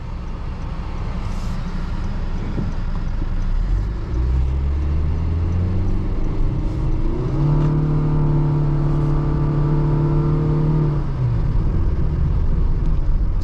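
A 2020 Honda Fit's engine drones from inside the cabin while driving, revs rising in clear sweeping steps as it accelerates, then settling, steady road noise underneath and no talking.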